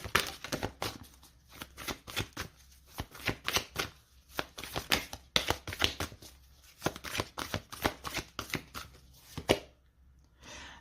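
Tarot cards are shuffled by hand at close range, a quick run of crisp, riffling slaps in an uneven rhythm that stops near the end, alone without talk.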